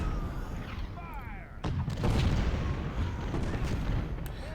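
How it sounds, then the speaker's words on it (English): Rifled artillery fires in the Civil War strategy game Ultimate General: Civil War, a dense rumbling bombardment with booming reports that swell after the first second and a half and roll on continuously. "I'm going to center all of my rifled artillery on his battery"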